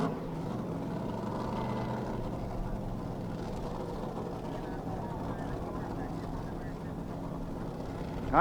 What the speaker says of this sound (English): Top alcohol flat bottom going out to the final to meet Mr. Bill Diaz.